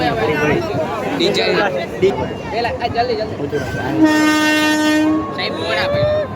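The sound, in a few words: train arriving at station with horn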